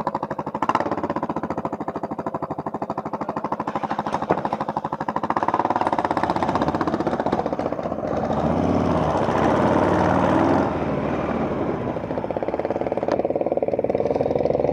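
A custom motorcycle built from a Suzuki Savage runs with a continuous, rough, throbbing engine drone, loud and close, swelling slightly partway through.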